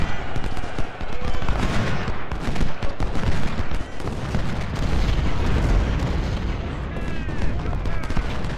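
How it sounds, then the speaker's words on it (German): Cannon and gunfire in a Civil War battle at Antietam in the Ultimate General game, rumbling booms and rapid cracks over steady battle noise, with someone speaking German over it. "Feuer auf die Mitte, Kanonen."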